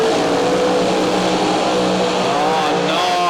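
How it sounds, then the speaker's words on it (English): Top Alcohol drag racing cars doing side-by-side burnouts make a loud, continuous engine roar close by, with the revving pitch climbing near the end. "Big side-by-side burnouts."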